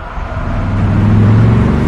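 Car being driven toward a secluded forest spot, a close, steady engine hum with a low rumble that swells slightly louder as it goes, with no voices.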